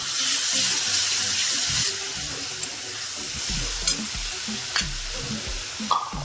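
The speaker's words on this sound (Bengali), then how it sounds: "সেই পেস্টটাকে আমি এর মধ্যে দিয়ে দিচ্ছি।" A paste of garlic, ginger and green chili hits a hot frying pan for a cabbage kofta curry, giving a loud hissing sizzle that eases off, with scraping spatula strokes and a few sharp knocks against the pan.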